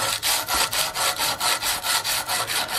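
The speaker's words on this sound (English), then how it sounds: "this technique again is file-backed sandpaper, and it just gives us a stiff support behind our sandpaper so we maintain crisp lines" File-backed sandpaper is worked in steady back-and-forth strokes over the metal nose cap of an Investarms Gemmer Hawken rifle build, giving about a dozen rhythmic, close rasping passes with no talk.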